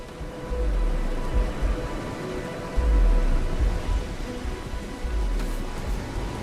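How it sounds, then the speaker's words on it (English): Steady rain in the modded video game Starfield hisses continuously, with low rumbling swells that rise and fall beneath it and no talking over it. "It'd be nice if it would stop raining."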